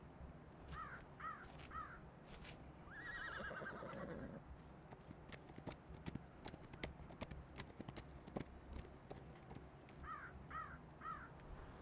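A horse neighs over a scattered clip-clop of hooves, with harsh crow-like calls repeating in the background; moderately distant, outdoor ambience.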